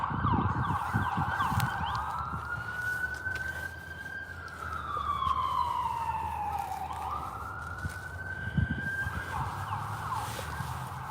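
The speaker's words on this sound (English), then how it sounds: "Ambulance." An ambulance siren sweeps up and down in long wails as it passes along a street near a cemetery, loud and steady over traffic rumble, with no talking.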